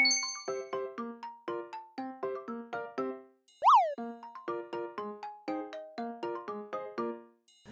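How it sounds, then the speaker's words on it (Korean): A bright, bouncy electronic ringtone of chiming notes plays in a quick melodic loop, briefly broken by a rising boing-like swoop. "지금 벨소리가 울리는 거 지금 전화벨 아닙니다 영양제 먹으라고 알려준 겁니다"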